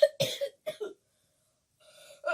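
A narrator imitates a terrible cough with his voice, a few short harsh bursts close up, then a pause and a faint breathy start at the end.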